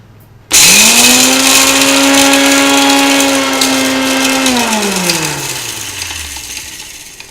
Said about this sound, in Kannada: ಮಿಕ್ಸಿ ಇದೆ ಅಲ್ವಾ, ಬೇಗ ಬೇಗ ಮಾಡ್ಕೊಳ್ಬೋದು